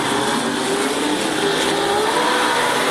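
Super sedan race cars roar around Rockhampton Speedway during a night race, a dense, loud, continuous wash of engine noise from several cars at once.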